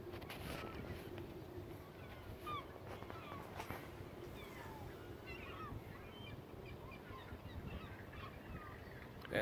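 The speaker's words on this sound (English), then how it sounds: "Hundreds of thousands of birds." A huge flock of birds on a lake in New Jersey, many calls chirping and squawking together in a dense, steady wash of sound at middle distance, with constant background rumble and no talk.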